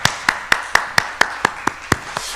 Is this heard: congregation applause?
yes